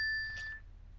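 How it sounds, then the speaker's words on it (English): A cell phone notification sounds once: two steady electronic beep tones hold for about half a second, then cut off into quiet background hum. "that's my cell phone beeping or dinging or whatever it's doing."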